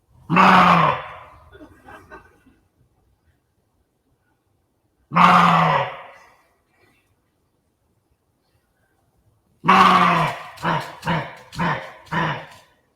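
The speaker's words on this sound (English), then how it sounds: "this deer bark, it was a great opportunity, but it's very distorted" Three loud, harsh deer barks in a distorted outdoor field recording, spaced several seconds apart, the last one followed by a quick run of four or five shorter barks.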